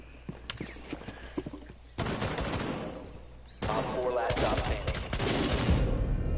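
Gunfire from the tactical shooter Rainbow Six, with sharp scattered shots giving way to loud, dense sustained bursts that sound close and fill the clip.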